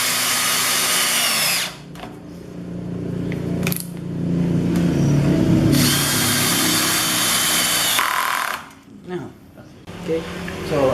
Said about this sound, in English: we're just going to screw these up now